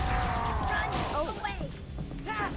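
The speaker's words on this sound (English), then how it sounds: "I smashed a grunt in the face." A gravity hammer smashes into a grunt during Halo 3: ODST combat, a sharp whack and crash with whooshing sweeps, mixed with game sound effects and talk.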